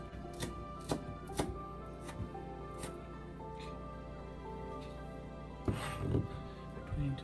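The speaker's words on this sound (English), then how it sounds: "we just cut it as thin as possible" A knife slices scallion as thin as possible on a cutting board, producing soft, close taps at an uneven rhythm over a low, steady background hum.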